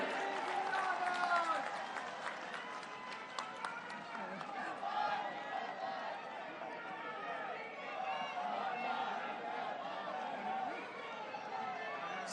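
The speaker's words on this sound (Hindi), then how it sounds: "ताली बजती रहनी चाहिए।" At a political rally in Bastar, a large crowd claps and cheers for Priyanka Gandhi. Sustained applause mixes with shouts and chatter, and it stays strong across the whole stretch.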